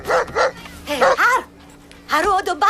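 A dog barks and yelps in short bursts, several close barks with a whimpering rise, mixed with speech-like voices in the background.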